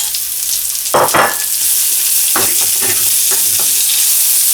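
Red chili paste and beef stir-fried in a pan, a loud, steady sizzle close up, broken by a few rough scraping bursts as the spatula tosses the meat.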